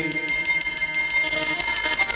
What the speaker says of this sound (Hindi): जैसे ही भगवान ने भोग लगाया सोई घंटियां बजने लग गई